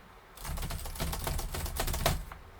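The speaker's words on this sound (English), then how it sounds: "Now, I can start typing." Rapid keystrokes on a computer keyboard while setting text in a desktop publishing layout, a steady close clatter of soft clicks lasting about two seconds with no talking.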